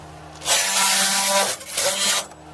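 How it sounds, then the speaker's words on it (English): Foam being cut away with a blade while interior walls go into a DIY truck camper, heard as two long, loud rasping strokes separated by a brief pause, with no talking. "cut off the excess foam"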